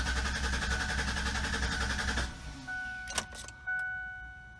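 A 1996 Ford Explorer that had sat for two years, low on fuel, cranks for about two seconds without catching, then falls quiet apart from faint electronic tones and a few small clicks.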